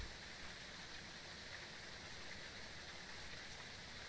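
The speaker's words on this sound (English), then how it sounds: "that rain is very loud" Heavy, loud rain in the ghost-hunting game Phasmophobia, a dense, steady hiss that fills the whole clip without pause.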